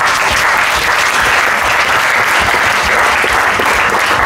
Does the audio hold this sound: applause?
yes